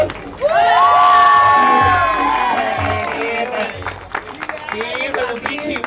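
A crowd at a dance contest cheers and shouts for the second dancer, loud whoops and children's high-pitched yells over some clapping, close and energetic, settling into crowd chatter.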